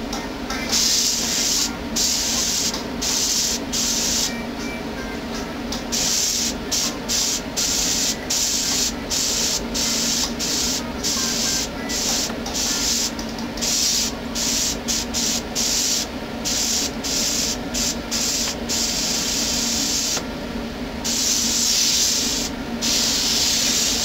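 An airbrush sprays paint onto clothing while lettering and water-and-sunset highlights are added, producing a steady close hiss with frequent short breaks as the trigger is released and pressed again across the whole stretch.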